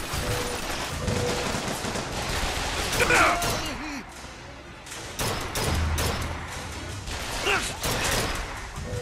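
Gunfire in the Bioshock Infinite video game: dense, loud bursts of shots and mechanical clatter that run almost without pause, mixed with game voices and other clamor.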